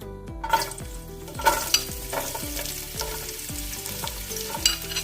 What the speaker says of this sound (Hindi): गाजर को पहले फ्राई करते हैं।